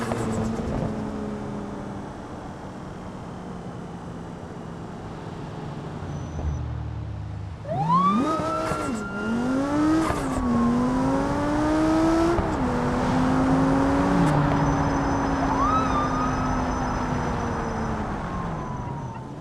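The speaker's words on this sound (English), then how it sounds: "you can hear the synchronizer damage, piston rings damage" A damaged car engine with blown piston rings and synchronizer damage in the BeamNG driving game revs up and down loudly, with a rough, whining tone that rises and falls for several seconds over a steady background drone.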